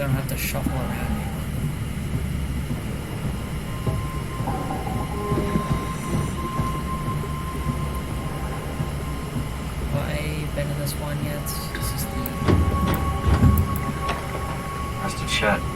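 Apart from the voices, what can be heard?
shuttle train moving in the video game SOMA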